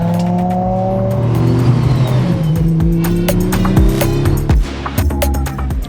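An Audi Quattro accelerates hard on an Overcrest DayPass rally drive, its engine revving loud and close through rising pitches and repeated gear changes, with no pauses.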